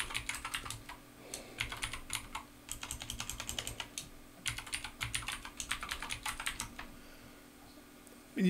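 Someone types a root password on a computer keyboard, with close, quiet bursts of rapid key clicks separated by brief pauses. A final louder tap lands at the end.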